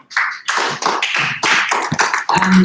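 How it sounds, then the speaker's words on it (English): Applause from an audience at a session of the MAPRES FHUI 2019 event, arriving in uneven loud bursts of clapping separated by brief gaps. "Give applause to Zico."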